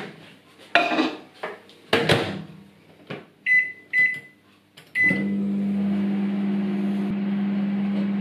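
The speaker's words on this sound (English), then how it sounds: "whack that in the microwave for 20 seconds" A few clinks and clunks of handling, then a door shuts with beeps and a microwave starts humming steadily, close and constant.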